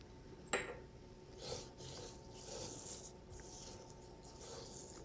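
Hands rubbing salt, pepper and oil into a raw tomahawk steak, giving soft, close rasping and smearing strokes with one sharper tap near the start, faint and steady throughout.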